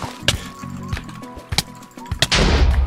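Fireworks burst in a video game: a series of sharp, loud cracks and pops spaced irregularly over game music, ending in a dense crackling rumble.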